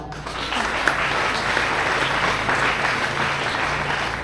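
Students at a school meeting of parents and teachers break into sustained, dense applause, loud and steady throughout with no talking over it.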